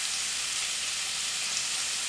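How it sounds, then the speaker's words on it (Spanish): Beef steak seasoned with salt and pepper sizzles and browns in a pan, a steady, fairly quiet hiss of frying with no talking over it. "vamos a dejar este bistec a que se dore"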